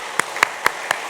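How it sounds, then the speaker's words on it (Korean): A church congregation at a worship service claps in unison, five sharp, evenly spaced claps in a reverberant hall. "다시 한번 박수하겠습니다."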